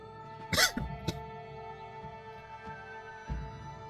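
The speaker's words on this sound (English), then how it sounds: "Sorry about the cough." A couple of sharp, harsh human coughs close by, the first loudest, then a softer one a few seconds later over a steady low hum.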